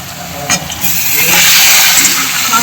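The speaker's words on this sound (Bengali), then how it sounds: "মাংসগুলোকে আমি হালকা ফ্রাই করে নেবো।" Chicken pieces frying in a pan with lightly fried onions, a loud close steady sizzle and hiss with a couple of short stirring scrapes early on.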